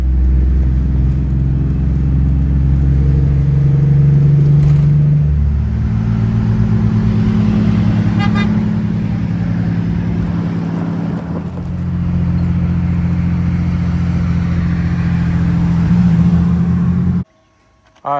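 Ford Aerostar van driving down the road, a steady interior engine and road drone running loud and continuous throughout, with a brief dropout near the end.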